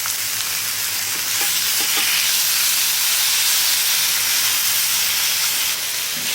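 Pork sizzles steadily in olive oil in a camp cooking pan, a dense, continuous frying hiss at close range that holds evenly throughout with faint pops and spatter.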